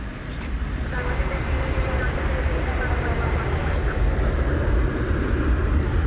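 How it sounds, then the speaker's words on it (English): Jet aircraft at DFW Airport, including UPS and FedEx MD-11 freighters taxiing and arriving, produce a loud, steady low engine roar and rumble throughout, heard from outdoors, with someone talking over it. "Got another UPS aircraft pulling out at this time. Oh, but we got a FedEx MD-11 coming in over on this side."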